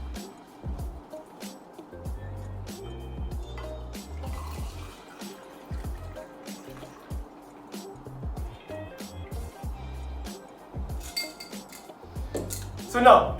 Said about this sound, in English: take a glass and pour this on top